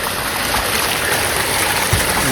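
Running water released into grassy village fields flows in a steady, close hiss and trickle, constant and unbroken from start to finish, with no voices.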